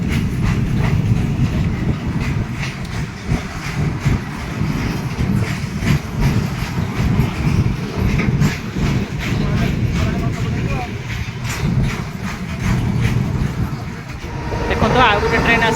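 A long train rushes past at high speed as heard from a bus on a trip, a steady loud rumble with faint rail clatter for the whole stretch, while voices talk over it.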